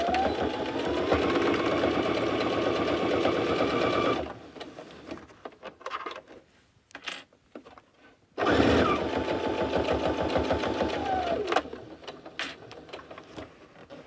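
A sewing machine back stitches a seam on a boxy fabric bag, a fast close rattling whir running about four seconds, then a pause filled with small handling noises, then a second steady burst of stitching that slows and stops.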